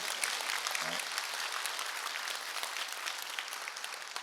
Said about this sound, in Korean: 이럴 때 하나님께 박수로 영광 돌려야지.